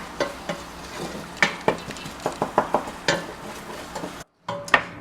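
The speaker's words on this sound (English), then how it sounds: "we will saute the onion with 1/3 cup of oil for about 10 minutes" Onion cooking in about a third of a cup of oil in a pan, with a steady low sizzle beneath repeated sharp scraping clicks from stirring against the pan, close and fairly loud.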